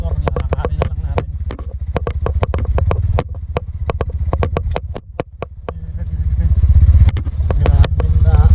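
A motorcycle engine runs steadily, close and loud, as it rides along a deep, muddy road, with its low drone rising near the end while rapid clattering and splashing ticks cut through.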